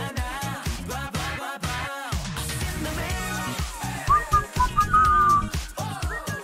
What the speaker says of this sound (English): Oh, the actual whistling now.